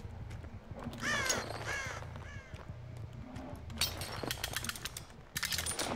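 Harsh crow caws in the video game Dead by Daylight ring out twice early on, followed by a run of rapid mechanical clicking and rattling.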